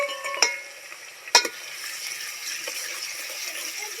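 Chopped tomatoes frying in a pan, giving a steady sizzle with a few sharp stirring scrapes near the start and around the middle, no voices.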